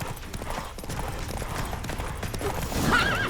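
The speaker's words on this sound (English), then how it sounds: "My horse stamina is something else." A horse gallops in The Witcher 3: Wild Hunt, its rapid hoofbeats drumming steadily through a busy game soundscape, with a short neigh rising near the end.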